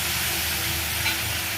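A paste of ground cumin and dried red chili fries in hot oil in a pan for a fish curry. It gives a constant, close, loud sizzle with no talking.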